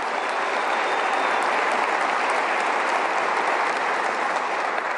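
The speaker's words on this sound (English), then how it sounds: "Our Secretary of State, Mac Warner, please, another round of applause." An audience at the 2024 West Virginia State of the State address claps steadily, a dense, even roar of applause filling the hall for several seconds.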